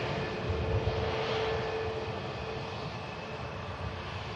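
A Jet2 airliner arriving from Barcelona at Manchester Airport gives off a continuous, distant engine rumble that swells slightly early on, then eases to a steady hum.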